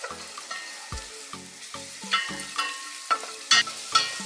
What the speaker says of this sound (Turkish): biber salçasını böyle iyice kavuruyorum.